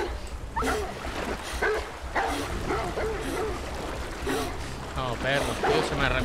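A dog barks and yips repeatedly in the Beyond Two Souls video game, mixed with shouting voices and a person talking over it.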